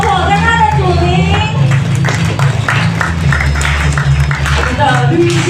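A congregation at a Christmas praise service applauds Sunday school children and youth performers. Speech opens and closes the moment, with a burst of moderate clapping between over low music.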